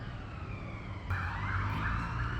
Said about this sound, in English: Do mind all the police cars